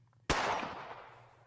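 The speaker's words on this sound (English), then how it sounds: "Let me hear gunshot." A Western-style pistol gunshot sound effect: one loud, sharp crack that bursts out of near-silence and fades over about a second in a ringing tail, over a low hum.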